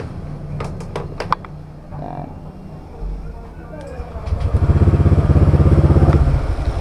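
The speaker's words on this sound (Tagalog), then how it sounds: "hayaan lang natin na bukas ang makina at naka-start siya" A motorcycle engine with carbon cleaner mixed into the gasoline: a few clicks and clatters, then the engine starts and settles into a steady, loud idle as a person talks.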